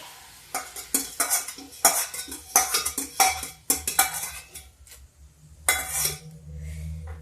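A spoon stirs and mashes whole masoor lentils in a pot over a low flame, giving clustered scraping and clinking strokes with faint sizzling, then a pause and one more burst of stirring.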